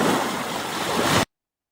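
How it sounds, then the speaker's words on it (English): Broadband rushing of water waves plays steadily on its own, loud and continuous, then cuts off abruptly. "The sound of the water, for example."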